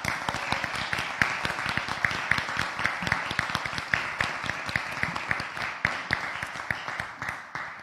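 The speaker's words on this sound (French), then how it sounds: "istine Chantraine et Monsieur Mathieu Théry, que vous pouvez applaudir" Steady applause from the audience at a town council installation meeting, a dense run of claps at moderate level that slowly thins toward the end.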